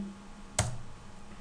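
A single sharp click of the Enter key pressed on a computer keyboard, close and crisp, with a quiet electrical hum before and after.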